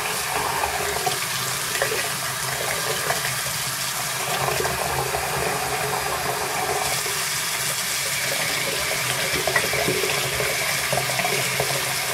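Kangertech eVod vape barrel rinsed and submerged in water, a steady close splashing, gushing wash of running water that continues evenly throughout with no talking.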